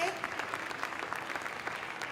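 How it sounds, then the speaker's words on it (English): A crowd applauding steadily, a dense patter of many hands clapping at moderate volume throughout. "So please give a massive round of applause to everyone involved."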